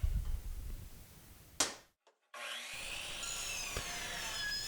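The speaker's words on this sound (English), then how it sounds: "So this is an old Ryobi chop saw that I've had." An old Ryobi chop saw fitted with a Diablo blade cuts through stock, a loud rising whine with a brief gap, then a steady ringing cut that holds to the end.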